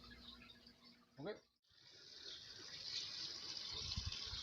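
Water rushes steadily as limestone screening is rinsed in a bucket outdoors, destined as substrate for an African cichlid tank; the flow briefly cuts out, then resumes as a continuous, fairly close splashing wash.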